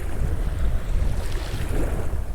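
Waves lapping on Pangong Lake in Ladakh, a steady wash of water under strong wind buffeting the microphone, continuous and fairly loud with no talk.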